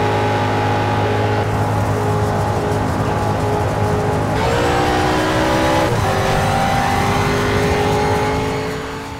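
Race car engine in the Need for Speed: Shift video game, droning steadily through a lap at high revs with rising and falling pitch as it shifts gears, loud and continuous with no talk.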